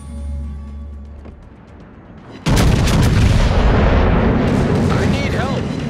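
Naval artillery thunders in World of Warships during a carrier battle: a low engine hum gives way to a sudden loud, sustained roar of gunfire and explosions that fills the rest of the clip.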